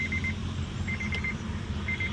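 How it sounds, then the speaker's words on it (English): A quiet key-left-in-ignition warning chime in a 2016 Honda Amaze with the door open repeats in short bursts of rapid electronic beeps, pausing between groups, over a faint low engine-like hum. "It shows that when you are getting out of the car, you just left your key in the car."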